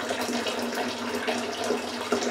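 Water pours and gurgles as it drains steadily out of a vessel holding bourbon mash made from seven roots, a continuous splashing flow close by with no talking.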